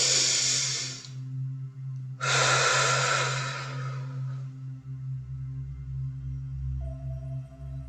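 A deep, close breath drawn in, then a long, forceful exhale blown out, both over a soft, steady low musical drone with no talking.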